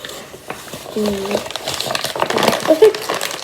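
Flour poured from a container into a mixing bowl while making pancakes at home, a soft rustling, crinkling pour heard close over a few seconds, with a voice and other talk in the background.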